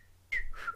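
Two brief, breathy whistle attempts from a person, close and faint, each a short wavering tone against quiet background.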